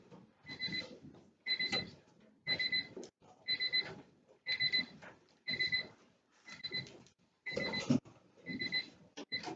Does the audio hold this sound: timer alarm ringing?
yes